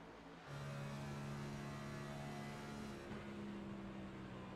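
Race car engine from an iRacing broadcast of an ENEA race at Indianapolis Motor Speedway, a steady high whining drone at near-constant revs that shifts slightly in pitch partway through, fairly quiet and without talk.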